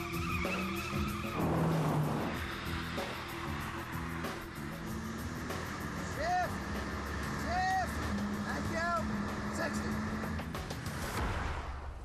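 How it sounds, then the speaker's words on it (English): An Oldsmobile Cutlass with a Rocket 350 V8 does a smoky tyre burnout, the engine roaring while tyres screech and skid with rising and falling squeals, alongside talk. "The smoky burnout."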